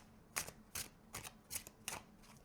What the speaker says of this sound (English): Wait, I normally shuffle like this,